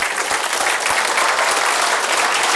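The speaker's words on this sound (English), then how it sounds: "just quietly start with a soft clap and just build it up" Audience clapping at a live taping swells into loud, dense applause, a full room clapping hard and continuously with a bright, crowded texture and no voices on top.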